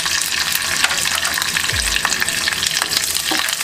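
Curry leaves and green chillies fry in oil for khandavi tempering, a loud, dense, continuous sizzle with crackles and occasional stirring scrapes close by, no voices.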